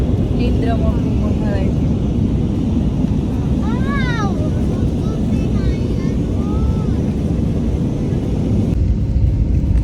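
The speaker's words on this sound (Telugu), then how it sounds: "ఇంకా కొంతసేపట్లో అయితే ఫ్లైట్ అయితే ల్యాండ్ అవ్వబోతుంది" Steady, loud airplane cabin rumble as a passenger flight from Saudi Arabia to India descends to land, a dense low roar throughout, with faint high chirping voices of children over it.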